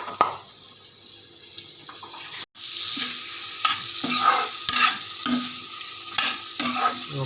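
Oil sizzles steadily in a pan as duck meat fries while a utensil stirs and scrapes in irregular bursts; close and fairly loud, no talking.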